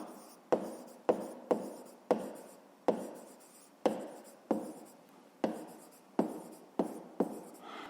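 Handwriting on paper while working a fifth-grade maths exercise, a close series of about a dozen sharp pen strokes and scratches in an uneven rhythm, with no voice.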